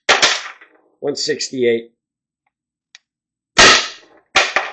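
Tippmann TiPX paintball marker firing cheap paintballs gives several sharp, close pops, spaced about a second apart, with a spoken number between shots.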